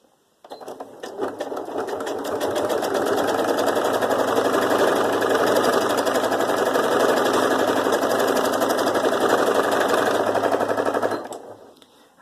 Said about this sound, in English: Now this is called free motion sewing.